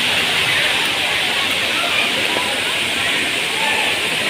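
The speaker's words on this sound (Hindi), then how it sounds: "झरना के बहुत ज़्यादा आवाज़ आते है" The waterfall at Jatmai Ghatarani temple roars as a loud, continuous rush of water, with faint crowd murmur mixed in.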